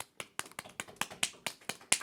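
Feet tapping quickly on a floor, mimicking applause: a rapid, uneven series of sharp, close slaps, about ten in two seconds, with no talking.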